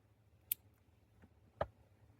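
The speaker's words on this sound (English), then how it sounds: "Then on the long end, I'm going to snip off this little bit of excess wire here." Small scissors or wire cutters snipping excess jewelry wire beside a crimp, two sharp, crisp clicks about a second apart in a quiet room.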